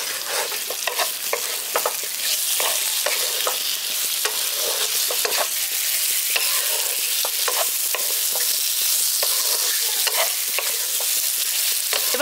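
Fried potato and pumpkin are stir-fried with spices in a pan, giving a loud, steady sizzle throughout with frequent scraping strokes of the spatula.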